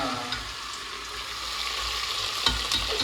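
Food sizzles steadily in a hot pan as it is stirred, with a few clinks of a utensil near the end; a continuous close frying hiss with no talking.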